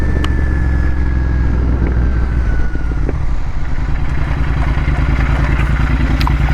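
A Royal Enfield GT650 motorcycle engine revs while riding on a service road, a loud continuous throbbing drone with rising and falling pitch, close and unbroken.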